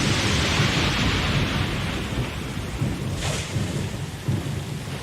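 Thunderstorm at sea in Pillars of Eternity 2: Deadfire: steady heavy rain hiss with low rolling thunder rumbles throughout and a sharper crack near the middle, loud and continuous with no voices.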